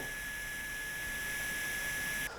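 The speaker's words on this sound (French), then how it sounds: "dès qu'on a activé le mode jeu vidéo, il y a le ventilo qui s'est enclenché avec un bruit qui ne passe pas inaperçu" A cooling fan spinning up in video game mode gives a steady whirring hum with a high constant whine, continuous and fairly loud throughout, cutting off abruptly near the end.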